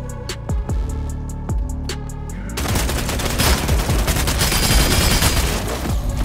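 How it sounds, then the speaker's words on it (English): Kalashnikov rifle fire in Vampire: The Masquerade - Bloodhunt opens with a few spaced sharp shots, then breaks into a dense, sustained burst of rapid close gunfire. "is that the purple Kalashnikov check, dude?"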